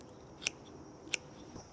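Scissors snip twice while cutting back a dahlia plant in a backyard garden, two sharp, close metallic clicks spaced apart over a quiet outdoor background.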